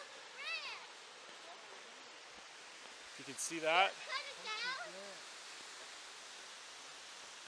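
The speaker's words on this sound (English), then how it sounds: "It's a beautiful looking waterfall." Steady rushing water from a waterfall in the woods fills the background, with someone speaking briefly over it.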